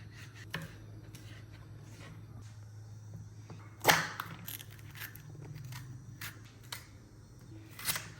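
A knife chops chicken jalfrezi ingredients on a cutting board in a home kitchen, with sparse, irregular cuts over quiet background, one sharper chop standing out midway.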